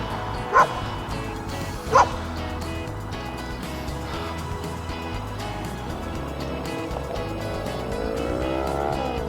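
Dogs bark sharply twice near the start, then yip and whimper over a continuous engine drone of passing traffic.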